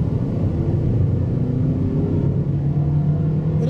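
A 2006 Toyota Camry LE's 2.4 L four-cylinder engine runs with a steady, loud low drone and hum that stays even throughout.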